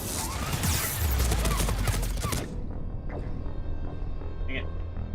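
Enemy gunfire in the Mass Effect 3 Legendary Edition video game, with a dense, loud burst of rapid shots and impacts that drops off halfway to quieter scattered combat noise.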